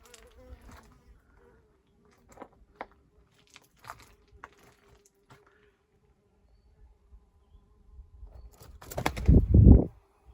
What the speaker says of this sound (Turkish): burada da bir kuş uçtu gördüğünüz gibi